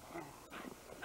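A Sheltie dog whimpers and whines in short, uneven bursts on a snowy sledding outing, fairly close and moderately loud, with rustling movement around it.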